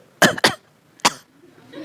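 A lecturer coughing during a class, three short sharp coughs close to the microphone in quick succession, then faint room noise with no talking.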